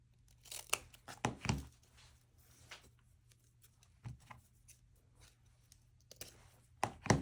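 Scissors snip the ribbon tails of a large patriotic deco mesh wreath bow, a few sharp cuts and crinkly rustles of ribbon spaced across the moment, close and fairly quiet with no talking.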